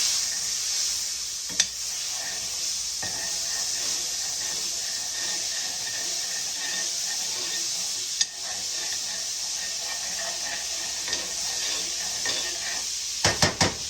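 Butter melts into salmon pan drippings over low heat, giving a steady, close sizzle and hiss throughout, with a few faint clinks of a utensil against the pan near the end.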